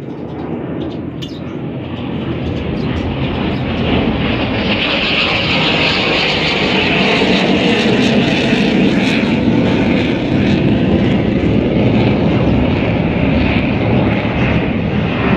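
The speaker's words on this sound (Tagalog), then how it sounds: "merong dumaan na jet fighter ng Philippine Air Force" A Philippine Air Force jet fighter passes overhead outdoors near a vegetable garden, a loud, broad, steady roar that holds for a long stretch, with no speech.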